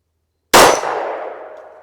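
One sharp, loud report from a Glock 19 firing a Winchester 115-grain 9mm hollow point. It comes out of silence and rings off into a fading metallic tail, with no voices.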